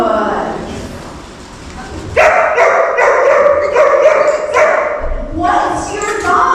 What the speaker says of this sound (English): even when there's other dogs barking, there's stuff going on.